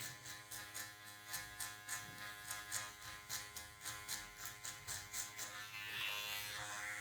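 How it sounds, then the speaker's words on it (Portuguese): An electric hair trimmer, the finishing clipper, hums steadily while cutting hair for a mid fade, its buzz pulsing in quick regular strokes as it passes over the head, then settling into a continuous drone near the end, quiet and close. "maquininha de acabamento"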